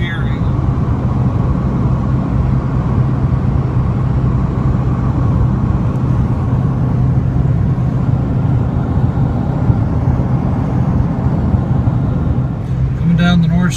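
Pickup truck driving on a rural road near Scottsbluff in western Nebraska, a steady low engine and road rumble heard from inside the cab, continuous and loud, with someone talking over it.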